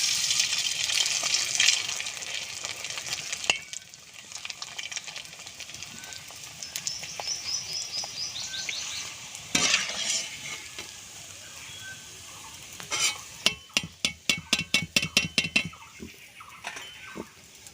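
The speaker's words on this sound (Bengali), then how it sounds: "আবারও দিয়ে দেব পাঁপড় তেলে।" Raw mango papad dropped into hot oil in a village kitchen, bubbling and crackling in bursts that swell and fade, ending in a fast run of sharp pops, moderately close with faint background noise.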